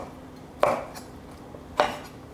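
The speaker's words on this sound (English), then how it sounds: "As soon as I start chopping chicken, Copley comes over here." A knife cuts chicken thighs into cubes on a board in a home kitchen, giving two sharp, separate chops about a second apart, close and clear over quiet room noise.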